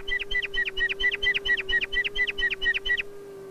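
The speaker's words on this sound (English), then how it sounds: "It's unquestionably a swamp sparrow song," A swamp sparrow sings a steady trill of about twelve evenly spaced, bright notes over a constant low hum, then stops.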